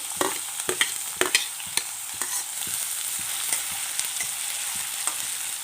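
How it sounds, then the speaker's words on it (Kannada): Chopped onion stirred into hot tempering in an iron kadai for North Karnataka togari kalu palya: steady sizzling frying with repeated close scraping and clinking spoon strokes against the pan, and no voices. "ಈಗ ಈರುಳ್ಳಿ ಹಾಕ್ತೀನಿ"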